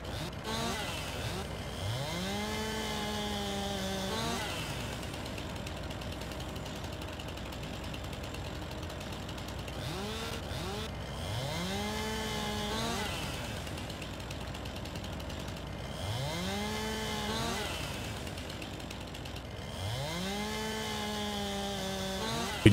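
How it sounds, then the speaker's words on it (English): A chainsaw in Farming Simulator 19 cuts through storm-felled tree branches, its engine repeatedly revving up into a strained whine and dropping back to idle in steady cycles, loud and close with no talk. "So let's get our chainsaw started up and get right to work."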